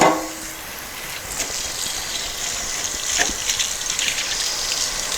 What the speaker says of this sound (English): Rinse the pan off while it's still hot so it'll be easier to clean.